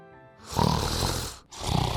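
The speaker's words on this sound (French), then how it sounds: "un loup gisait près de l'arbre et ronflait de sorte que les branches tremblaient" A cartoon wolf snores loudly in a fairy tale, lying by a tree, with two long rumbling inhales and a short gap between them, close and prominent with no talking.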